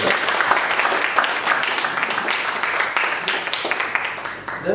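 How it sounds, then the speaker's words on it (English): A Toastmasters club meeting audience gives a round of applause, steady dense clapping that holds at an even level for several seconds, with a few murmured voices mixed in. "Round of applause for that."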